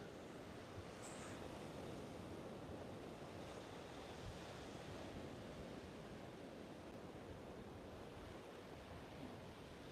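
Heavy wind and surf on a Sanibel Island beach make a steady, full roar of breaking waves and gusting air against the microphone, constant and fairly loud throughout with no voices.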